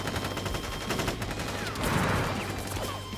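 A volley of gunfire from a squad of troops in the Wutai War battle of Final Fantasy VII Crisis Core, dense overlapping shots rattling continuously with a louder burst in the middle, no talk.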